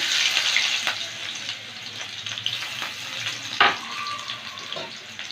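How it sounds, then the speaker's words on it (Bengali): Chopped garlic, dried red chilies and nigella seeds frying in a pan for lau pata bata, a steady close sizzle with occasional scraping stirs and a brief clink near the end, no talking. "রসুনটা একটু ভেজে নিলাম"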